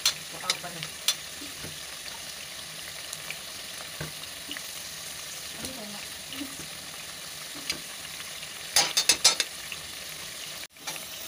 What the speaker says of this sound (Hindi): आलू के पकोड़े हमारे गोल्डन होना शुरू हो चुके हैं, अब हम इन्हें पलट देंगे।